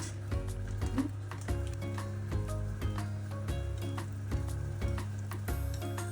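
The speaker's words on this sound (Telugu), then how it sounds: "జీడిపప్పులు వేడిగా మరుగుతున్న నెయ్యిలో వేసి" Cashew nuts crackle and sizzle in hot bubbling ghee, a steady frying hiss dotted with small pops, partly masked by a louder repeating musical beat.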